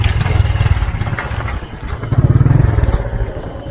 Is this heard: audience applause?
no